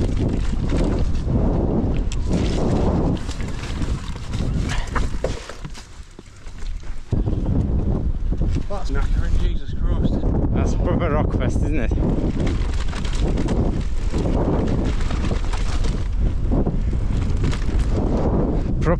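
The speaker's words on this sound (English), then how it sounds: "A little bit windy today, so let's see if we're not gonna get blown off the mountain." Strong wind buffets the microphone on a Peak District mountain during a mountain bike ride, a loud, steady roar lasting the whole stretch with a brief lull midway, and a voice talking over it.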